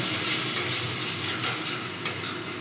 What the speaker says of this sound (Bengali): আরও খানিক্ষণ মশলাটা আমি কষে নেবো